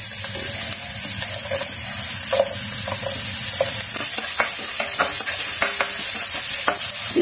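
Garlic and onion sautéing in oil for beef strip caldereta, a loud, close sizzle broken by frequent scraping stirs and utensil taps against the pan.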